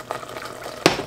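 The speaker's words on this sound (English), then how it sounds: "so I'm going to add a little bit of water here" Water splashes into a pan holding curry paste for vegan chana masala, a short bright burst of pouring and sizzling near the end after a quiet kitchen background.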